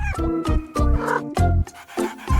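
A cartoon-like cat meows several times in quick succession, close and fairly loud, each meow a short tonal call separated by brief pauses, with no talk over it.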